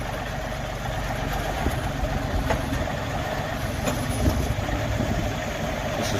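A BESTHAND BH5600 backhoe idles with a steady diesel rumble while its outriggers deploy, with faint mechanical knocks and clunks over the continuous engine drone.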